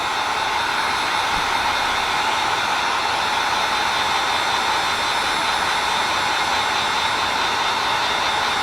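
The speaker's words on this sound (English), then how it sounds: "turn on your heat gun, we want to singe down" A heat gun blows a steady, loud, airy roar with a high whine as it shrinks shrink wrap over a fly line loop, unbroken and constant throughout with no talking.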